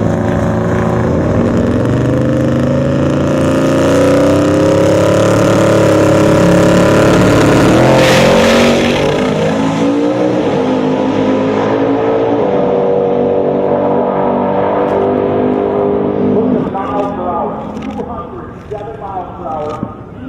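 A drag racing car, The Sorceress, roars with a loud, close engine that holds a heavy growl, climbs in pitch as it revs, then drops away and fades near the end.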